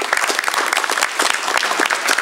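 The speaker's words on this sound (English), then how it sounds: "Let's give him a round of applause." A crowd applauds a senator after remarks by a governor on a legacy lawsuit bill, loud close clapping with rapid, uneven claps throughout.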